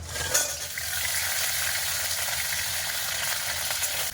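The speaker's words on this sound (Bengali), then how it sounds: "এবারে আমি একটু লবণ হলুদ দিয়ে কাঁকড়াগুলো এখন ভেজে নেব" Pond-caught crabs fry in hot oil in a heated wok with salt and turmeric, giving a steady, close, even sizzling hiss that runs unbroken throughout with no talking.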